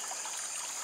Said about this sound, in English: how quiet and peaceful it is with the water running